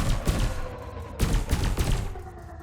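Spaceship weapons firing in the Elite Dangerous space combat game, a rapid series of loud booming shots and thuds with a ringing tonal hum underneath.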